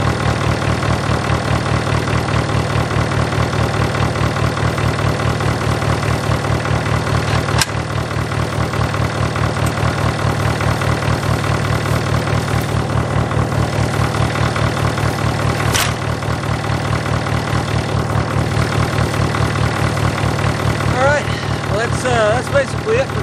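A farm tractor engine idles nearby in preparation for hay cutting, a steady, loud diesel drone with an even pulsing knock that runs throughout, and a voice speaking faintly underneath near the end.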